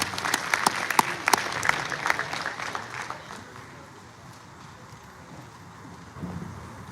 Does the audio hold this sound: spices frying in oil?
no